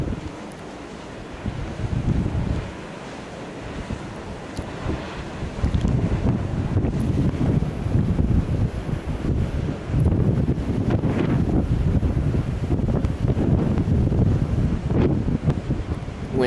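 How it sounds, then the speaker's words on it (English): Wind gusting across an exposed ridge at the Mount Storm wind farm with 132 turbines, a steady roaring rush that buffets the microphone and swells louder partway through, with no voices. "Wind's about"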